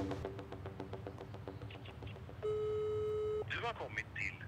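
A telephone call tone plays, a string of short repeated beeps followed by a long held tone and then a brief garbled burst, moderately loud and clear over a quiet room.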